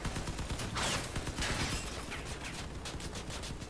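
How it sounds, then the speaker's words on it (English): Rapid, continuous machine gun fire in the video game Crossout, dense and loud, with a steady mechanical clatter throughout. "I got a machine gun."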